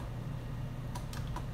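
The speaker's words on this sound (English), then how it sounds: "let me type that back" Several quick key clicks on a computer keyboard as a website address is typed, three short taps standing out over a steady low background hum.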